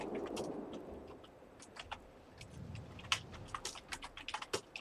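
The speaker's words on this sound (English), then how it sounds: "I'm going to type in the chat." Close computer keyboard typing during World of Warships carrier gameplay, a quick run of light key clicks that turns busier toward the end, over a soft low game engine rumble with no speech.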